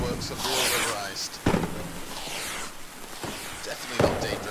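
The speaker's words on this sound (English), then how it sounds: "Wow, fireworks have all arisen." Fireworks going off in a game, several sharp bangs and fizzing crackles spaced about a second apart, fairly loud, with a voice talking between bursts.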